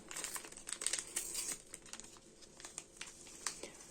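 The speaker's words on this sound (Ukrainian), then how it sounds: "Висипаю цілий пакетик" Crinkling of a paper packet of baking powder followed by a soft, grainy rustle as the whole packet is shaken out, close and quiet.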